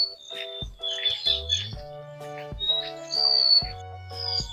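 A black myna with white wing patches, a talking bird, calls out in a rural field, giving a series of bright chirps and whistled notes with a few lower tones, steady and fairly close, with no voices.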